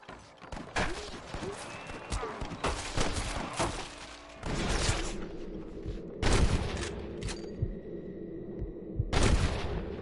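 Several sharp gunshots in the video game Red Dead Redemption ring out in irregular bursts, loud and close, with a steady low rumble and scattered background noise between them.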